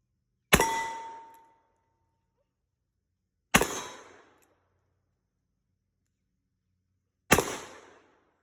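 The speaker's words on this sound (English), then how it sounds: "We're gonna give her a run here, 6 shots, and see if we can hit some stuff." Three loud shots from a Smith & Wesson Model 25-5 .45 Colt revolver fired at targets outdoors, each a sharp crack with a ringing tail, spaced about three seconds apart.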